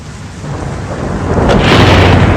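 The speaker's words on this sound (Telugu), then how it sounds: "వాన మొదలైంది." Steady heavy rain with a deep rolling thunder rumble that swells louder toward the end, filling the whole soundscape.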